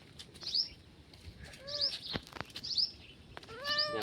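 A cat on a farm mews several times in short, high, faint calls spread across a quiet outdoor background, with a few soft chirps between them.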